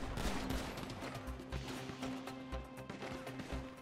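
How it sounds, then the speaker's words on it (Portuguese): Rapid gunfire crackles from all directions in a GTA V Online deathmatch, dense bursts of shots and automatic fire overlapping at varying distances with no speech. "O tiro vem de todos os lados"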